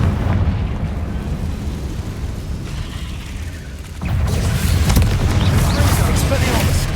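Confringo spell explosion in Hogwarts Legacy, a loud blast that erupts partway through and leaves a broad, roaring burst over a steady rumbling game background.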